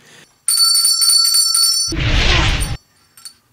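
A bell rings in a bright, sustained burst of metallic tones for about a second and a half, then gives way to a loud, broad crash-like noise; no talking.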